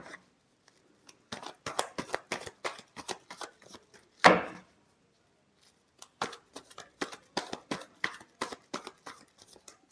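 Tarot cards shuffled by hand give quick runs of soft, crisp riffles and taps in rhythmic bursts, broken by a pause and one louder slap midway.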